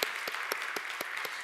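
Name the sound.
congregation applause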